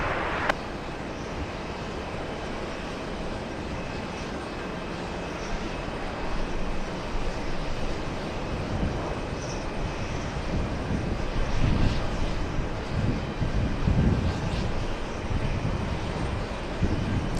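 An airliner at JFK airport gives a broad, steady engine roar that holds for the whole stretch, rising slightly in loudness toward the end with no pauses.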